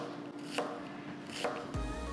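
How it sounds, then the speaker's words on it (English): A knife chops through an onion on a cutting board, two crisp strokes about a second apart followed by a duller thud, close and fairly quiet. "everybody has their own way to cut and chop an onion"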